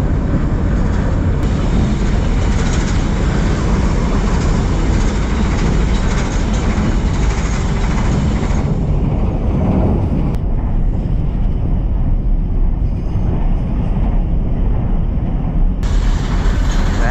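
A train in Mauritania rumbles steadily past with heavy low-frequency roar and wind buffeting the microphone, the noise thinning partway through before swelling again.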